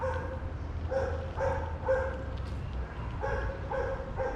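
A dog at a campsite in Myrtle Beach State Park barks several times from some distance, in short separated bursts and a quicker cluster near the end, over a faint steady background.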